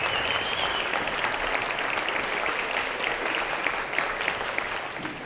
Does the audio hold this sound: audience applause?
yes